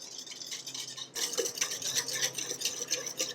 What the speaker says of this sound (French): j'incorpore 2 œufs avec 110 g de lait, comme ceci. Hop! Et je fouette légèrement.